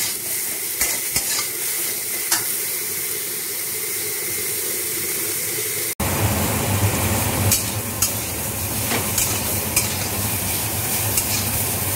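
Salted vegetables for Bengali shukto fry in a pan, giving a continuous sizzle with repeated stirring scrapes that grows louder and fuller midway through, with no talking.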